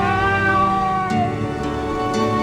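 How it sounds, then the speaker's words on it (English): A cat meows in a video game, a loud, drawn-out, whiny call that shifts pitch midway, alone with no voices over it. "There's another cat, I want to pet it."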